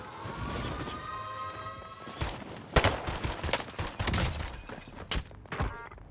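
Rapid bursts of gunfire from dual Akimbo M19 pistols in Warzone on Rebirth Island, close and loud, with sharp clustered shots and a few impacts, heard alone without talk.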